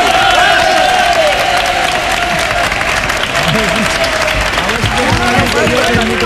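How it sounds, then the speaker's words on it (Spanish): A loud, continuous burst of audience applause with some crowd noise fills the space, a sung or spoken voice weaving through it at a stage show. "¡Fuerte aplauso, señor!"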